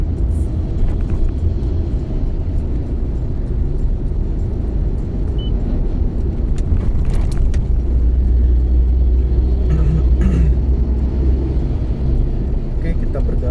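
A car cruises along the Cikampek toll road in Bekasi among goods trucks and large vehicles, giving a loud, constant low road rumble with engine drone throughout.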